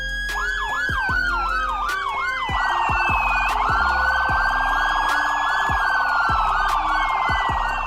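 Police car siren cycling through patterns, close and loud: a fast yelping warble that shifts into a rapid high-low pulse, broken by short sharp horn-like blasts.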